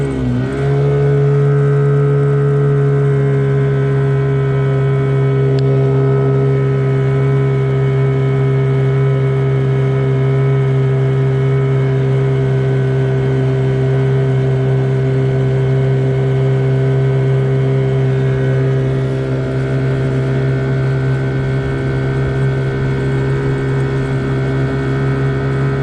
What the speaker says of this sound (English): Sorry about the boat noise.